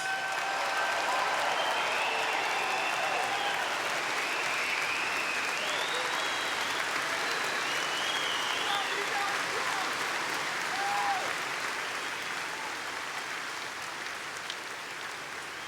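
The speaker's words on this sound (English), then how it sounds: "we want to give them a big, big, beautiful round of applause" A rally crowd gives veterans sustained applause, dense clapping mixed with cheers and whistles that fills the space continuously and tapers only slightly toward the end.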